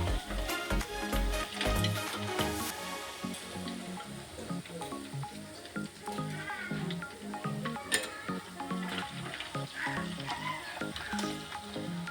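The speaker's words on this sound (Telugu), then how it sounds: "ఈ విధంగా మిగతా చేపలను కూడా కాల్చుకోండి." Fish pieces frying in a pan give a steady, close sizzle with dense popping and occasional clinks from stirring, unbroken throughout.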